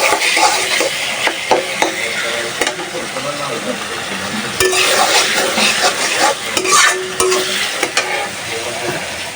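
Dried ribbonfish shutki frying lightly with spice paste in a pan, a close hiss of oil broken by irregular stirring scrapes and clatters, with some voice in the background.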